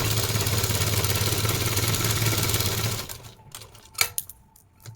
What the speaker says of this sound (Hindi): अब आपको यहाँ से लेके और एक सिलाई लगाकर ले जाना